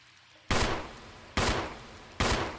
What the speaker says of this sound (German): Aber ich feuer jetzt die ganze Schüsse weg hier.